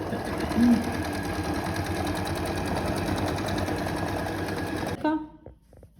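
A sewing machine runs steadily as it stitches a seam on men's boxer shorts. The whirring stays loud and continuous for about five seconds, then stops suddenly, leaving a few faint handling clicks.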